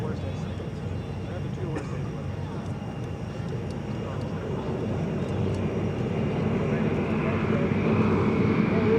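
A T-28 Trojan propeller plane drones steadily overhead at EAA AirVenture 2025, its engine growing gradually louder over a broad rumbling wash of noise.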